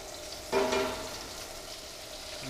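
Puffball mushrooms cooking with onions and dill sauce give off a low, steady frying sizzle, with a brief louder burst of hissing and stirring near the start before settling back to a quiet simmer.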